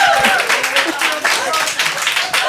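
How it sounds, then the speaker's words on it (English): Lively applause from a seated audience at a comedy-style show on arranged versus love marriage, dense clapping sustained throughout, with faint voices mixed in. "1 round of applause for women"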